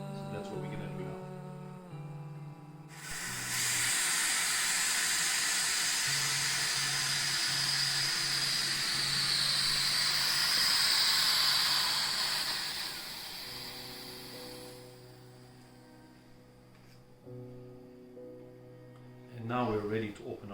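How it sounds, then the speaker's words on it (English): Steam hissing out of a pressure cooker pot while cooking dhal, a loud steady broadband rush starting about three seconds in and lasting roughly twelve seconds before tapering off, with background noise and faint voices around it. "I'm gonna release it halfway. Let some of the steam get out."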